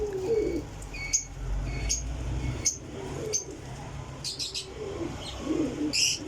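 Pigeons in a loft, soft low cooing rising and falling alongside repeated short sharp chirps and a few brief flutters, close and fairly loud with no talk over it.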